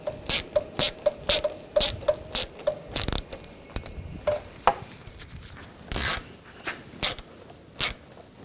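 Ratchet tightening throttle body bolts on a 2009-2017 Volkswagen Tiguan 2.0L engine: quick bursts of metallic clicking, several short strokes in a row, each pause followed by another run of clicks, close up with no talking.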